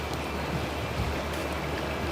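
River water rushes along a riverside in Waioeka Gorge, New Zealand, a steady broadband wash with no break, fairly faint and alone.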